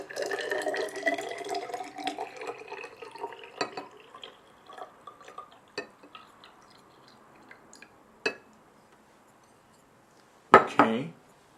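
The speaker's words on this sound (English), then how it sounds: "So the first thing I do is measure out 100 mils of water." Water being measured out to 100 ml while mixing cyanotype chemical solutions, a soft trickle and pour with scattered small drips and glassware clinks, fading to quiet with one sharper knock near the end; a voice talks at the start.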